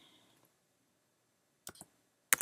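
A few sharp computer keyboard clicks: a faint tap near the start, a quick pair of keystrokes, then one louder final keypress, separated by silence.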